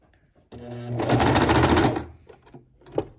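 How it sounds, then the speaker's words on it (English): A sewing machine runs one quick stitching burst on a shoulder seam in burrito-method sewing: a loud, fast, steady mechanical whir lasting about a second and a half, then a few softer clicks and handling sounds. "I'm going to just do a quick stitch right there."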